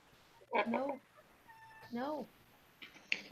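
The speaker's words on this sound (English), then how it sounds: "Oh, the cat's alive." A house cat gives two distinct, close meows a second apart over a quiet indoor background, followed by a brief higher chirp-like sound.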